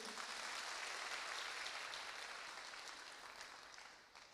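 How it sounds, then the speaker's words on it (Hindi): A large audience applauds a speaker at a Safe Shop business talk, a dense, steady wash of clapping that stays even and then thins and fades toward the end, with no voices over it. "एक शानदार ताली आपके लिए बनती है"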